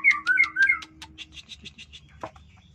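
A white-rumped shama (murai batu) in a breeding setup gives a quick run of bright, rising whistles, then a steady series of shorter chirps and notes, close and fairly loud.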